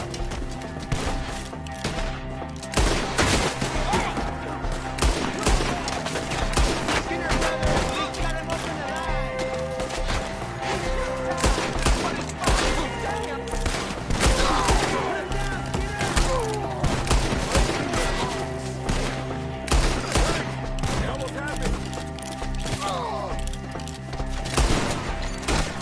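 Sustained, heavy gunfire in a Red Dead Redemption 2 battle, loud overlapping shots and rapid volleys hammering without pause, with shouting voices mixed into the continuous fusillade.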